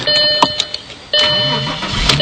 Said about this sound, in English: Engine start right up.